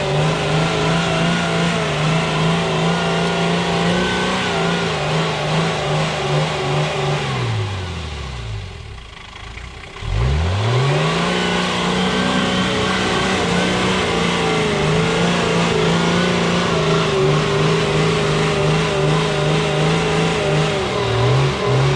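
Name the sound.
Toyota HJ47 Land Cruiser 2H diesel engine running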